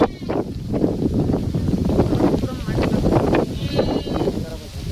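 Goats bleating over a windy background during a hailstorm at night in Vikarabad district, several wavering cries overlapping alongside voices.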